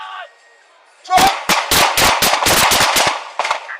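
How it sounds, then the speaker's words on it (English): Several police officers open fire at once, a loud, close volley of rapid overlapping gunshots lasting about two and a half seconds, following a brief shout. "Gunfire from 4 officers strikes the man, and he collapses."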